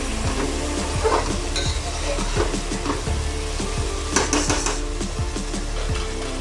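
Coriander sautéing in ghee in a pan, a continuous close sizzle with repeated scraping and stirring strokes and an occasional light clink of a utensil against the pan.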